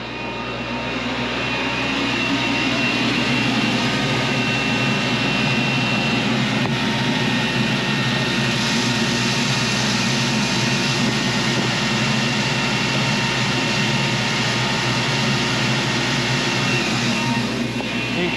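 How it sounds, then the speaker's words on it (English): Steady roar of a bean planter's vacuum fan running in the field, loud and continuous throughout with a constant broadband whoosh and no talking. "You can hear the fan running."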